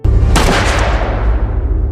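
Gunshot in a sci-fi film, a sharp loud blast followed by a heavy rumbling boom that decays slowly over a second or so.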